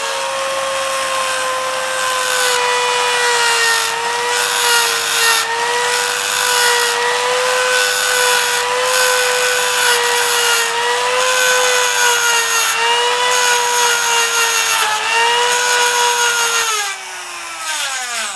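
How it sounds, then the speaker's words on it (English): A Dremel rotary tool fitted with a cutting wheel grinds through a steel ball bearing, producing a loud, steady high-pitched whine with a screeching metallic edge that holds for about seventeen seconds, then winds down as the tool spins to a stop. "I'm just going to use a Dremel with cutting wheels"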